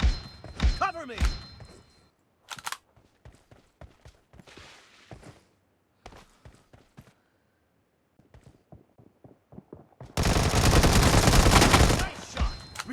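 Gunshots in PUBG Mobile during a team deathmatch with an M24: a rapid burst of fire, then scattered single sharp cracks and thuds at varying distance, and a loud sustained roar near the end, with game voice lines in between.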